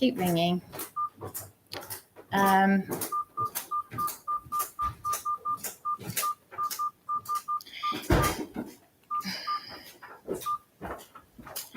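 A telephone tone repeats in short, evenly spaced electronic beeps while people talk over it.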